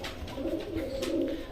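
Rampuri pigeons in a loft giving low, soft rolling coos that repeat in a gentle rhythm, fairly faint and close, with no one talking.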